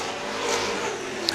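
Late model race cars at speed on a speedway oval during a feature race: a steady, distant engine roar that swells slightly mid-way, with a brief sharp tick near the end.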